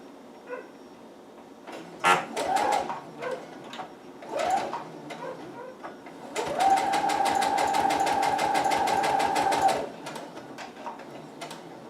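A sewing machine stitches a cosplay utility belt pouch close to the edge: a few short bursts of clicking stitches, then a steady, rapid run of about three seconds before stopping.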